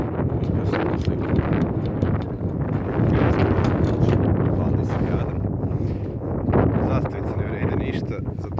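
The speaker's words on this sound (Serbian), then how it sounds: "Ovaj vetar je od 4 do 7, kako što se događa." Strong gusty wind buffets the microphone at an outdoor air rifle shooting range, a constant loud roar swelling in gusts, with muffled talk underneath.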